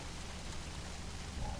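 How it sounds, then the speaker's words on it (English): Heavy rain in the video game Shadow of Mordor, a dense, steady hiss of downpour filling the scene without a break. "it is raining heavy in Mordor"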